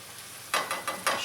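A sauce is stirred and mixed in a hot, sizzling pan while cooking Mongolian lobster. Four quick, close scraping swishes come through over a steady fry hiss, and no one speaks.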